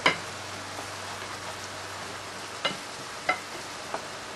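Chicken and wild rice casserole ingredients cooking in a pan, a steady soft sizzle with a few sharp stirring clicks and taps scattered through, fairly quiet and without talk.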